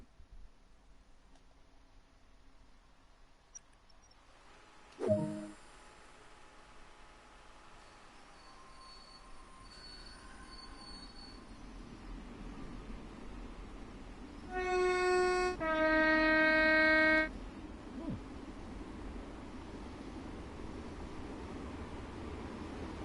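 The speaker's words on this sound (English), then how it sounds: "This train is ready to go. Pull the indicated handle all the way back to get moving." A train in the game Train Sim World starts off and rolls along, with a loud clunk of couplings, then steady rumbling wheels, a sustained horn blast and squealing tones over the running noise; no one talks.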